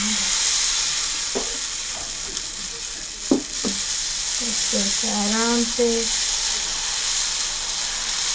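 Chakuli pitha batter sizzles steadily in a hot pan in an Odia kitchen, a continuous close hiss with a few soft clinks and a brief voice partway through.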